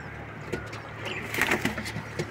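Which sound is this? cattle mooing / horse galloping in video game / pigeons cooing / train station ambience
pigeons cooing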